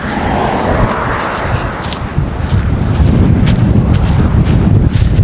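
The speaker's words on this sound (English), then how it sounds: "whew, the wind is crazy" Strong Santa Ana wind in Southern California batters the microphone in loud, continuous rumbling gusts that swell and surge throughout, with no speech.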